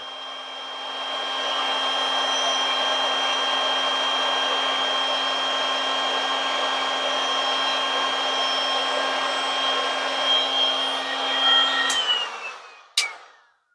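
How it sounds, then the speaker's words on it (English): A handheld heat gun runs steadily for about twelve seconds as it heats a 1:12 scale toy accessory to straighten it, giving a loud, even blowing whine with a clear tonal hum before cutting off, followed by a brief click. "The heat gun."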